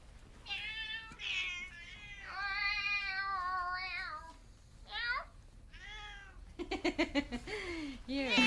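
A cat meows several times, drawn-out and wavering calls close by, followed by a quick run of short, chattering sounds.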